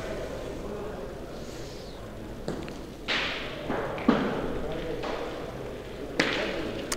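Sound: petanque boule shot striking another boule

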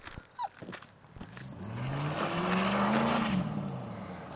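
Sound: Ford Sierra reverse burnout, tires squealing

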